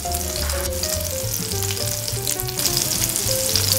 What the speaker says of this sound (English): You don't have to check on the fish too often, so it's going to cook. Just let it settle in the pan.